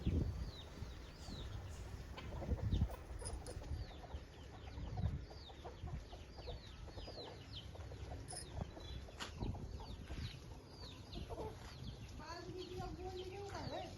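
Chickens cluck busily and continuously close by while being fed grain in the evening, with rooster-like calls and faint voices in the background.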